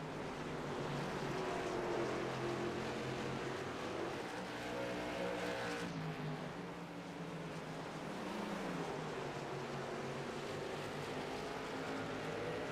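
Race cars lapping South Boston track in a championship race, a continuous loud engine roar with pitch sweeps as cars accelerate off the corner, sustained with no voices.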